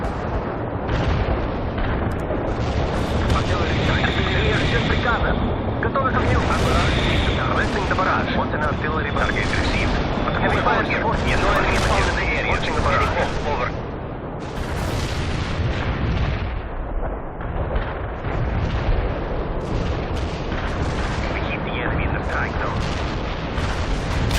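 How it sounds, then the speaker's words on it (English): Artillery strike explosions in the video game World in Conflict, dense heavy booms and rumbling blasts rolling almost continuously, with voices speaking over the barrage. "Artillery strike on the way."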